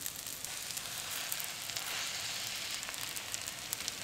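Rice and bulgur roasting in a pot make a steady, fine, hissing sizzle at a moderate, even level, with no voices.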